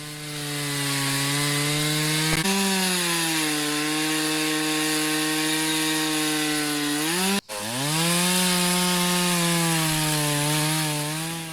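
A chainsaw cuts through a tree trunk with loud, close, sustained engine roar as the bar works through the wood, the pitch sagging under load, then a momentary drop before the saw revs and bites again.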